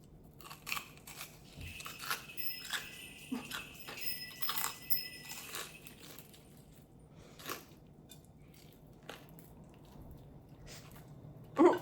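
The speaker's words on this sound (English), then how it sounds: "listen to that crunch" Crisp crunching bites and chewing of roasted pork belly close to the mic, with scattered crackles and rustles throughout, fairly quiet overall.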